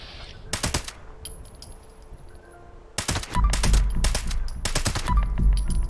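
Vampire Fixer rifle gunfire in Fallout 76, a short burst of shots, a quiet pause, then several louder rapid bursts over rumbling in-game background noise.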